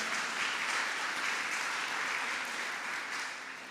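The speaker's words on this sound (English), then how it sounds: "Let's give them a round of applause." An audience at a community meeting applauds, a broad wash of clapping at a moderate distance that holds steady and then begins to fade near the end.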